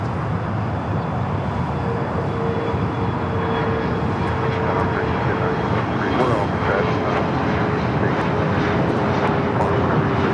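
A Boeing 777-300ER airliner on short final at LAX, its engines roaring steadily and loudly for the whole stretch with a faint whine running through it.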